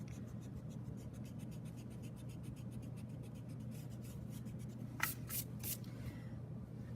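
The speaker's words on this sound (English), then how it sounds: "Then I'm going to erase everything from the end of that post to my next post." A pencil eraser rubs across paper in quick, repeated back-and-forth strokes, clearing lines on a one-point perspective split rail fence drawing. The rubbing is soft and close over a low, steady background hum.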